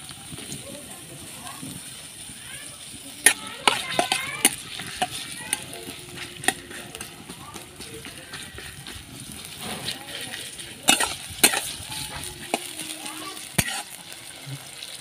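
Onion, garlic, ginger and chilli frying in mustard oil in a pan, a steady sizzle under a spoken voice, broken by sharp clinks and scrapes of stirring that come in bursts.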